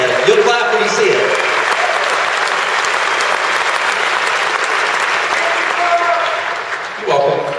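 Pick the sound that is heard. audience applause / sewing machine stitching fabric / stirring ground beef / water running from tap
audience applause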